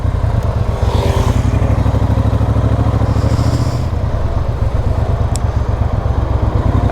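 Motorbike riding through heavy London traffic, its engine droning loud and close with steady low rumble and wind rush throughout, brief rev changes and occasional clatter, no talking.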